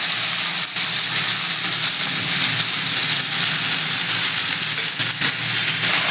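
Red amaranth greens dropped into hot oil with browned onion hiss and sizzle loudly in a pan, a continuous close frying roar broken by a few brief scraping stirs.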